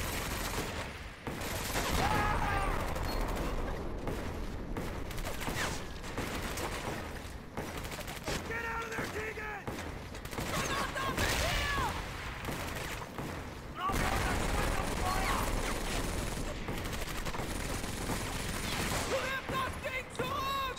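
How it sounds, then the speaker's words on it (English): Sustained automatic gunfire from a machine gun in the World War II shooter Medal of Honor: Vanguard, dense bursts rattling continuously with explosions and battle noise, loud throughout with brief lulls. "I thought that was a machine gun shooting."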